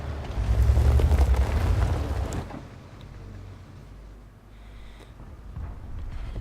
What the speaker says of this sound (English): there's shells flying in all over the place